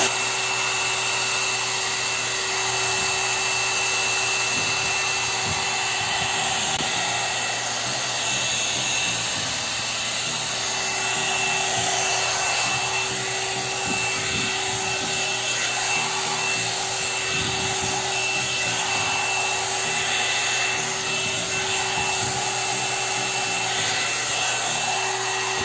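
A hair blower dryer from a blower and curler set runs steadily on its low setting, a constant whirring drone with a faint vibrating rattle throughout.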